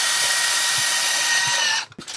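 A power drill drives a screw through a horizontal wood mounting board into wall studs for a shelf, a steady, loud whirring whine that runs unbroken for most of the stretch and then cuts off with a short clatter.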